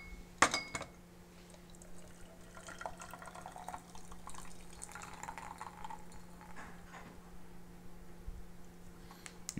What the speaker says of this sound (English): you pour the tea out